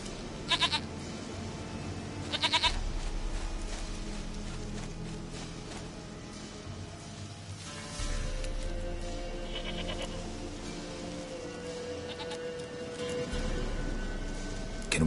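Goat bleats in The Witcher game, a few short nasal calls early on over steady game ambience and background music, with no talking.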